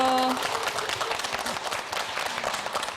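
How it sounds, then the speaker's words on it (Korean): An audience at a KBS Gwangju lecture-show taping claps to welcome four guests onto the stage, dense sustained applause with a brief tonal sound at the start and a voice faintly over it. "여러분 박수로 모셔보겠습니다"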